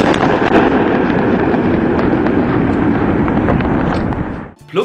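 Rapid sticky grenade explosions in GTA 5 Online, fired from an armored vehicle at god-mode players, form a dense, loud, continuous barrage of booms and crackle that stops abruptly near the end.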